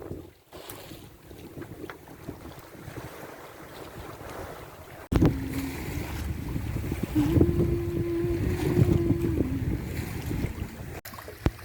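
A sailboat under mainsail and jib moves through open water off Dominica, with steady wind rushing over the microphone and water hissing along the hull, growing louder partway through.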